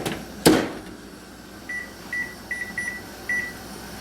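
Microwave oven keypad being set to add five more minutes while cooking a turkey stir fry: a loud thump or door close, then a string of about five short, clear beeps in an uneven rhythm over a low hum.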